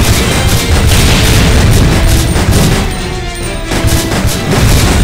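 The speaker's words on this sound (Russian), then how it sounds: "он меня вот этими своими взрывами долбешь" Explosions from the video game Resident Evil Survivor 2 Code: Veronica boom loudly and almost without pause, with heavy blasts and crashing bursts overlapping into a dense, continuous barrage.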